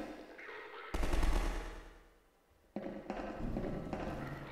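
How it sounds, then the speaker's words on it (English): Gunfire bursts out abruptly at close range, a heavy thumping volley that fades away, then a second rattling burst starts and keeps going to the end. "Who's shooting?"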